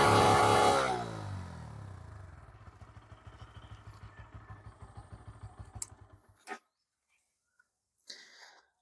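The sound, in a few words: Bajaj Pulsar N160 motorcycle engine running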